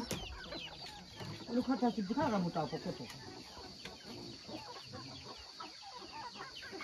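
Village chickens and a rooster cluck in a burst of rapid, fairly close calls that then fade into softer background clucks, with people chatting along a hiking trail.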